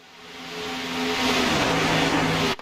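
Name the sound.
Xfinity race cars passing by at Daytona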